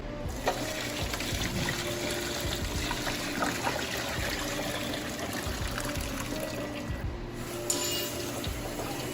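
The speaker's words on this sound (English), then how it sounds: "we're gonna pour out the boba and rinse it in cold water" Steady running cold water splashing and trickling into a sink as boba pearls are rinsed, continuous and close, with occasional clinks and shifting patter throughout.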